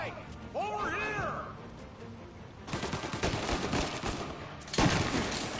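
Shotgun blasts from the video game Mafia ring out as loud broadband bursts in the second half, layered over game noise and a rising whistle-like tone early on, with voices present.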